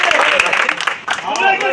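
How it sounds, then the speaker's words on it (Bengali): A group claps and cheers loudly at the start of an eating contest of bread and beef, a dense burst of applause mixed with voices. "শুরু হলে আমরা সবাই হাততালি দিব"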